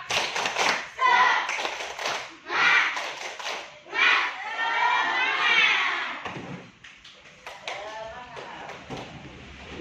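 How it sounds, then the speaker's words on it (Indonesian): A class of students does a rhythmic spirit clap, sharp patterned hand claps in quick groups mixed with children's voices chanting along, loud and close in a classroom. "Tepuk semangat!"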